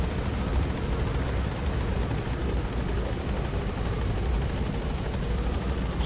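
Helicopter in the Metal Gear Solid 5 video game, a steady, loud rotor and engine drone that fills the whole stretch without letting up, with no voices over it.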